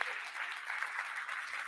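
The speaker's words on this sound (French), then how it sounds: "je vous propose d'applaudir notre speaker" An audience applauds a speaker at a talk, a steady, dense wash of clapping that holds evenly from start to finish with no voices over it.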